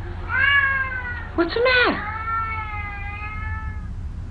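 A Siamese cat meows in a series of drawn-out, tonal calls, close and clear, with a short rising yowl in the middle; a person speaks briefly over the cries.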